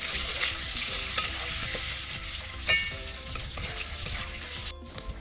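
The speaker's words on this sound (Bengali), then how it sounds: "তো অল্প সামান্য একটু নুন, একটু হলুদ গুঁড়ো" Potatoes fry in oil with salt and turmeric, a steady close sizzle and crackle with occasional spatula stirs and scrapes, continuous and without voices.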